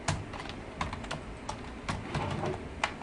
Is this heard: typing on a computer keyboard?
yes